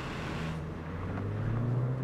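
Turbocharged Ford Fiesta ST engine droning steadily inside the cabin, a low continuous hum with mild rising revs throughout, no talking.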